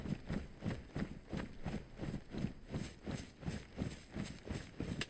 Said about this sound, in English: pretty sure I've just heard footsteps.